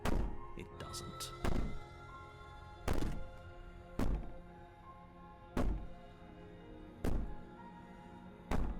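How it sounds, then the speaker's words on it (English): Heavy, regular thuds of banging on a wall in the horror game Slay the Princess, about six booming blows roughly one to one and a half seconds apart, loud and close, with a low droning score beneath. "Maybe the banging and wailing will stop if you just don't pay attention to it"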